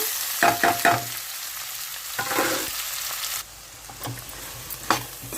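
Onions drop into hot oil left from frying dry fish, giving bursts of crackling sizzle with spatula scrapes and a softer hiss between them.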